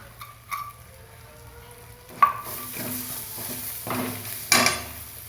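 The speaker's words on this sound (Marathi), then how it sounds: "अर्धा चम्मच हळद पावडर, चिरलेली कोथिंबीर तेलात फ्राय करूया." Turmeric powder and chopped coriander frying in oil, a soft sizzle with a few sharp clinks of a spoon stirring in the pan, quiet and close.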